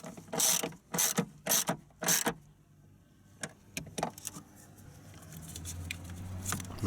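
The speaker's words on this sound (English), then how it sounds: "Start it with your hand and just tighten them up in the socket." A socket ratchet tightens battery bracket bolts on a BMW 5 Series F11, giving four quick, sharp clicking bursts up close, then fainter scattered clicks and handling noise over a low background hum.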